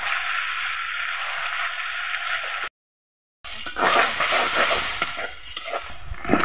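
Drumstick pieces with onion paste and spices fry in a pan, a loud, steady hiss and sizzle broken by a brief cut to silence, then louder with stirring scrapes and bubbling.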